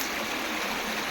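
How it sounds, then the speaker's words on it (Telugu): Water rushing steadily at Pogilla waterfalls, a dense continuous roar of falling and flowing water, close and fairly even throughout with no voices. "వాటర్ శబ్దం చూడండి ఎట్లా వస్తుందో, వాటర్ సౌండ్"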